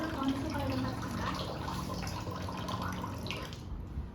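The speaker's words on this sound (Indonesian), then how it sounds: "Buka keran air, basahi dengan air, bilas tangan dengan bersih" Tap water runs steadily into a sink during handwashing, a continuous soft splashing hiss that ends near the close.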